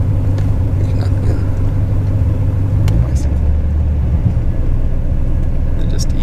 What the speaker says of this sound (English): just ease that clutch out until you feel it start to grab, and just continue easing it right on out